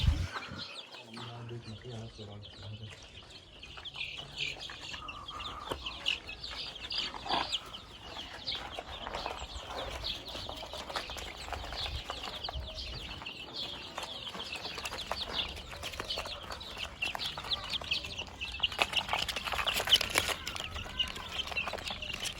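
Thirty-four chicks of mixed breeds, including Ligorin crosses and Plymouth, cheep continuously in a coop, a dense high chatter with occasional clucks and wing flaps, while people talk over it.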